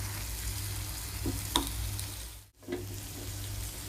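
Beetroot masala frying over a slow fire, a steady low sizzle with a couple of soft stirring scrapes and a brief dip in the middle.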